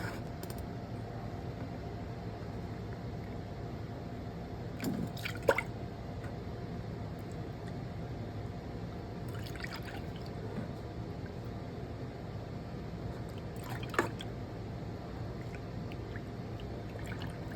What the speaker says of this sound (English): she's going to measure out 2 cups of water into a small saucepan